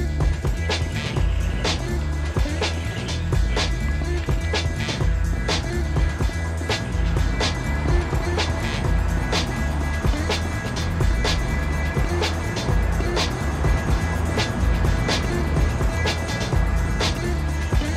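A Traxxas TRX-6 6x6 RC truck with all diffs locked crawls over obstacles in low gear, giving a loud, steady electric motor whine with constant rattling and clicking throughout, and no talk.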